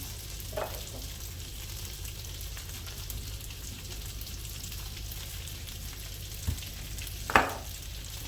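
Butter melting in a hot pan with a faint, steady sizzle and a few soft scraping stirs, quiet and close, with a louder clatter near the end.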